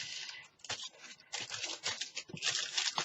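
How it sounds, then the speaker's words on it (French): Packaging paper from a cross-stitch supplies order crinkles and rustles in close, crisp bursts, with short pauses between handfuls of crackling. "Ça fait toujours un bruit monstre leur papier."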